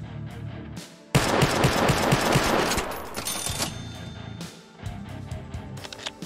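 Rapid automatic gunfire bursts from a Scar or MP5 in the hunting game Venari, loud and dense for a couple of seconds, then a few scattered shots, with short silent gaps around them.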